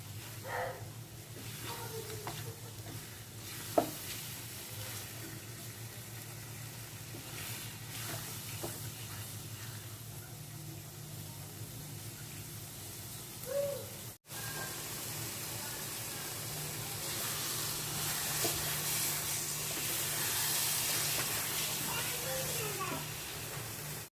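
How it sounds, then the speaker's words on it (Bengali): Carrot halwa stirred in a pan until the oil separates, a steady low hiss and sizzle with occasional soft spoon scrapes and knocks, continuous and fairly quiet throughout. "যত পর্যন্ত তেল না বের হবে ভালো করে এমন লাড়তে হবে নিচে যদি না লেগে যায়"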